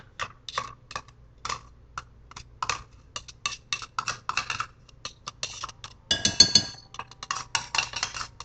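A spoon scrapes and scoops crushed pineapple from a metal can, producing a run of sharp, close, irregular clicks and clinks with a denser burst of rattling scrapes near the end.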